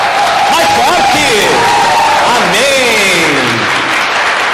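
Continuous applause from a church congregation, loud and dense, with voices and singing carrying over the clapping throughout.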